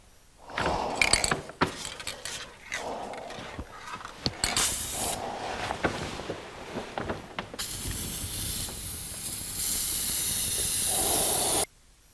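Spray gun laying a final clear coat on a 1982 Jeep CJ7 tub: bursts of pressurized hissing spray in short passes, then a long continuous loud hiss before cutting off abruptly.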